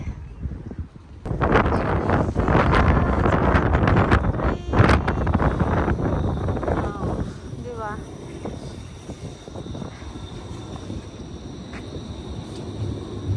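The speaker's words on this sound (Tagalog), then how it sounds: "Napakalakas ng hangin ngayon, grabe." Strong wind during snowfall in Edmonton buffets the microphone in loud, rumbling gusts, with a person talking over the roar.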